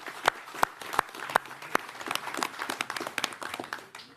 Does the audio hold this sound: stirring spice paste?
no